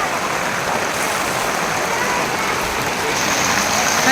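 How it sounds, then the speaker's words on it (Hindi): Dense, steady hiss of heavy rain pouring down at Vaishno Devi, India, loud and unbroken throughout, with no voices. "मैं देखो इतनी ज़्यादा बारिश है,"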